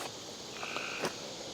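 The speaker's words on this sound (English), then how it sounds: "here's the frogs." Frogs croak faintly outdoors in a garden at dusk before dark, a few short calls over a quiet background with one brief louder burst.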